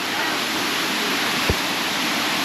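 Steady, broad roar of Phu Pha Sawan waterfall in Thailand, a stepped cascade with small pools, filling the whole clip at constant level, with a single brief low thump near the middle.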